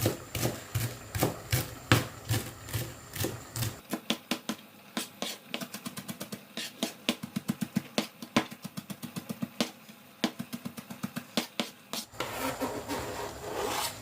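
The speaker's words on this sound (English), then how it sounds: "I'm going to chop up some coriander" Fresh coriander being chopped with a knife on a board: brisk, steady rhythmic taps that speed into a rapid run of close, crisp strikes, then settle back to a slower beat, with no talking.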